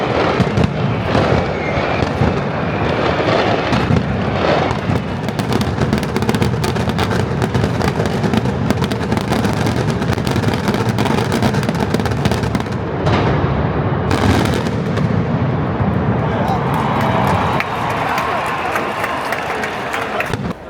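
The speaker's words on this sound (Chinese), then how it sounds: "这个城市用盛大的烟火来欢迎我" Fireworks burst over Valencia during the Fallas festival, a loud, dense barrage of crackling bangs and booms that runs without pause for about twenty seconds, with crowd noise mixed underneath.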